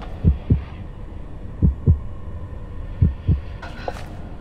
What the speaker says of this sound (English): if you walk over to Joseph's tub, you can actually hear his heartbeat